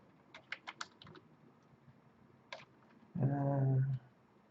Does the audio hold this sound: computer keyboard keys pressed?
yes